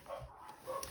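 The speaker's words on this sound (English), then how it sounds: "So obviously they've all got to bark at each other." Dogs bark outside, a couple of short faint barks at a distance, heard indoors against quiet room tone.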